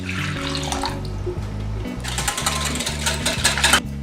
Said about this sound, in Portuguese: Vamos adicionar os 250 ml de água.